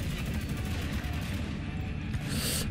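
Dense, continuous gunfire fills a firefight in the shooter game Spec Ops: The Line, loud and close with rapid overlapping shots and booms, layered over game music and a voice.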